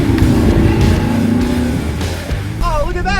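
An all-wheel-drive Dodge Charger police car tears across a large semi-manicured field, its engine revving loud and close with a steady roar, while a voice speaks over it.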